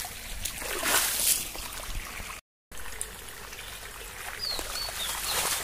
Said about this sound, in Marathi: असं ना असं पाणी उडवायचं,